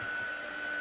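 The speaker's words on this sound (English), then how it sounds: "So all you're going to do is hold your heat gun still." A heat gun blows a steady, faint airy hiss with a thin whine, held still to puff up craft paste on a card.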